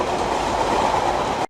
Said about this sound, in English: trains indoor